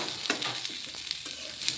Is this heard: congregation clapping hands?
no